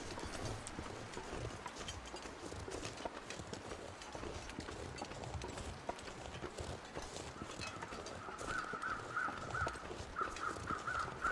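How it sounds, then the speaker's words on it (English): Crows caw in a video game, a run of raspy calls arriving late over a steady bed of clip-clopping horse hooves and ambient noise, fairly faint overall with no talk. "I hear the birds."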